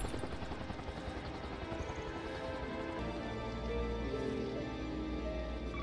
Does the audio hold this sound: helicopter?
yes